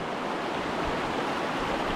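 Muddy river running high after a typhoon, a steady broadband rush of flowing water with constant loudness and some wind noise, close by and without speech.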